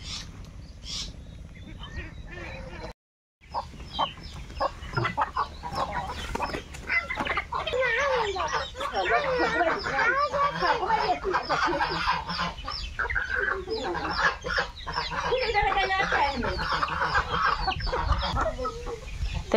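A flock of geese and chickens crowds in on a farm, a dense, continuous mix of clucks and honking calls close by that swells after a brief silent break.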